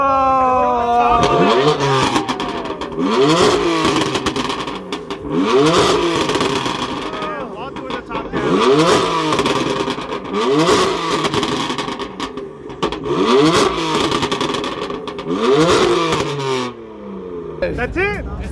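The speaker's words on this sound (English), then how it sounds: "He'll rev it for you if you ask him to." A McLaren Senna GTR at a JDM car meet revving repeatedly, loud close engine surges rising and falling in about six evenly spaced blips, with crowd chatter and shouts around it.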